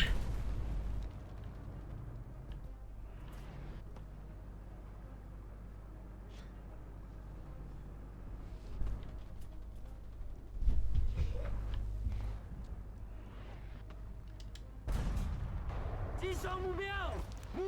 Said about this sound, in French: Tiens, frappe d'artillerie, je sais pas où je la fous